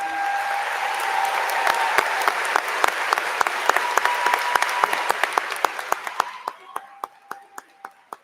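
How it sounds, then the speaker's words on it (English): Audience applause at the Brookfield East Class of 2024 graduation commencement, a steady wash of many hands clapping that thins out toward the end into a few scattered, distinct claps. "one more round of applause"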